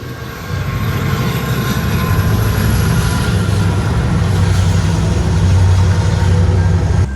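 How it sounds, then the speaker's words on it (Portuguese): A train passes close by at a street crossing in a wealthy neighbourhood, a loud continuous rumble and rolling clatter that holds steady for several seconds with no talk. "toda hora que eu passo aqui eu tenho que esperar o trem"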